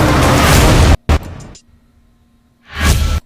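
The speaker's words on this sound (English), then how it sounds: "Let's put a swipe there." A loud, broad whoosh swipe transition effect rushes through, cuts off sharply, then a short snap and fading tail follow before a second swelling whoosh rises at the end.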